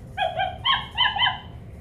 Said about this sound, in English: She just barks when you say hello.